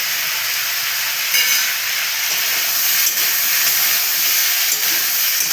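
Chopped raw and ripe tomatoes hit a hot pan for a Birbhum-style vegetable tok, sending up a loud, continuous hissing sizzle with slight swells from stirring.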